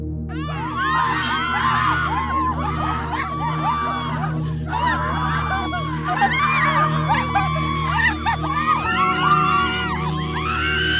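A crowd of people screams and cries in shrill, overlapping wails over a steady low droning background, continuous throughout.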